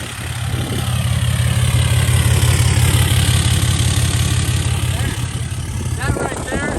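A Cummins diesel engine in a Ford truck, an Alumiduty build, idles steadily with a deep, even rumble that swells slightly and holds. It runs close up for the whole stretch with no talk over it.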